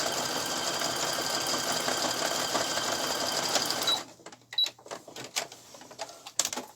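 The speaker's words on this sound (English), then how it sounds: "I'm going to put mine on a zigzag stitch, which on my machine is number 4" A sewing machine runs a zigzag stitch along the edge of fabric for washable wipes, a steady loud whirring drone for about four seconds, then stopping into scattered soft clicks and handling noises.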